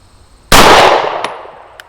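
A single loud pistol shot from a CZ P09 fitted with a red-dot sight, followed by a sharp clang as the bullet strikes an orange steel plate target, ringing and fading over a second with faint echoes at an outdoor range.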